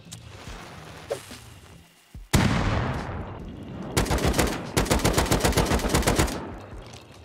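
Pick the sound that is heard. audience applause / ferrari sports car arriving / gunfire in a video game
gunfire in a video game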